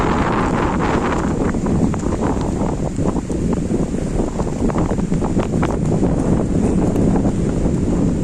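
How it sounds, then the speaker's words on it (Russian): Strong, gusty wind buffets the microphone on the shore of Lake Turgoyak in July, a loud continuous roar with surging gusts and no voices heard. "Ветер сильный вообще."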